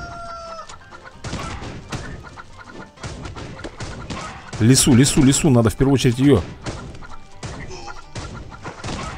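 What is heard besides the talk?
chickens clucking in the video game Swamp Attack 2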